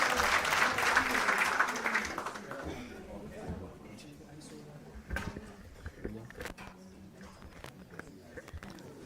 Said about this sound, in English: Shall we give him a warm round of applause, please?